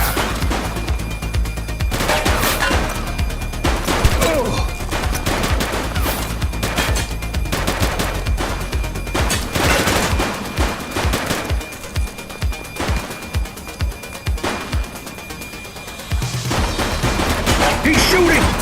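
Repeated gunfire from a suspect in The Precinct police game, loud rapid bursts and single shots recurring across the stretch, with brief quieter gaps and a sustained low rumble beneath.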